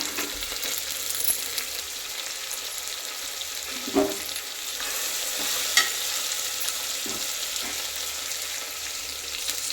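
Tomato, soaked peas and fenugreek leaves fry and get stirred in a hot tempering, giving a steady close sizzle broken by a few sharp scrapes and clinks of the spoon against the pan, with no voices.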